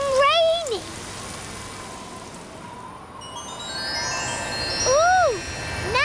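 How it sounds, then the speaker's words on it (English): Rain falling in the Peppa Pig cartoon, a steady soft hiss heard through airplane windows, with swooping whistle-like tones at the start and near the end. "It's all cloudy and rainy."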